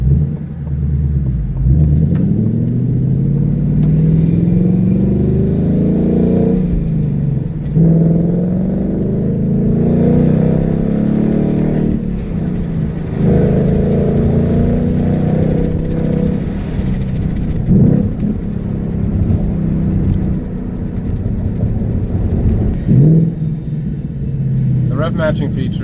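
A 2019 Ford Mustang Bullitt's V8 engine rumbles and revs as the car accelerates in rising, falling pulls, loud and close, while someone talks over it much of the time.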